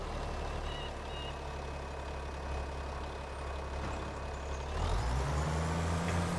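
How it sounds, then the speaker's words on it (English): In Farming Simulator 25, a tractor's thin, steady tone gives way as its engine fires up near the end, growing into a low, loud diesel rumble that keeps running. "let's jump in the tractor here and get it fired up"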